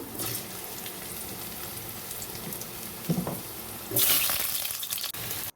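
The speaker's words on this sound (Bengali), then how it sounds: "এবার আমি এর মধ্যে দিয়ে দেবো আলু আর কুমড়ো, ভালো করে ভাজবো।" Potato and pumpkin pieces dropped into hot oil with a tempering of cumin, bay leaf and dried chilli, giving a steady close sizzle with a sharp surge of frying hiss as more food hits the pan.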